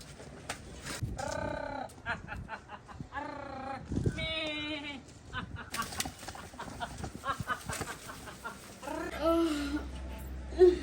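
Goats bleat several times with wavering, nasal cries amid a rural household scene, while people talk over and between the calls.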